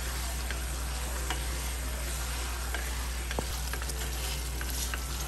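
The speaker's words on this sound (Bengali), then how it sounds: "1 মিনিটের মতো নাড়াচাড়া দিব।" Chopped tomatoes and capsicum sizzle steadily in an open pan for a chicken curry, a continuous close frying hiss with small ticks and clicks from stirring.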